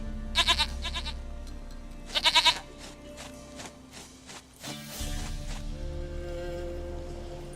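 Several short, nasal goat bleats from The Witcher 3, clustered in two quick bursts early on, then a longer bleat midway over a low steady game ambience with faint hoof-like steps.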